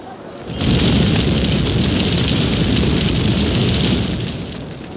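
A gas explosion in the emergency-response video game Emergency 4, played with a New York City mod, bursts in as a loud, sustained roaring blast that holds steady for several seconds before tapering off.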